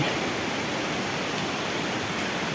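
Steady rushing of a waterfall beside a cave temple in the mountains of Uthai Thani, Thailand, a continuous broadband wash of falling water that stays even and fairly loud throughout, with no voices.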